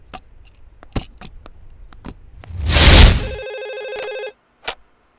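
A telephone bell rings once, loud and close, in a Telugu film scene. It is preceded by light ticking and clicks and followed by a single click before silence.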